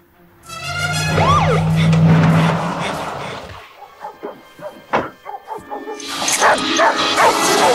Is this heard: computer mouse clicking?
no